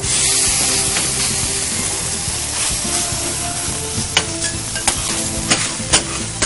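Chicken frying in a little oil on a hot plate gives a loud, steady sizzle with bursts of spattering and scraping stirs toward the end, with no voices.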